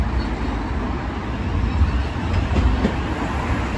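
A Class 700 Gatwick Airport service bound for Brighton passes through Selhurst station, a steady moderate rumble of wheels on rail with faint clatter, heard from the platform.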